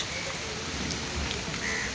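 Steady rain falls in a continuous wash around someone riding a motorbike through a downpour, a constant even hiss with no break and no voices.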